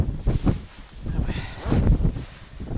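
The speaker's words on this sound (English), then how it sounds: "You can hear the wind probably behind me." Strong wind of about 20 to 30 mph blows outdoors on a rainy February evening, roaring and gusting close to the microphone in uneven surges.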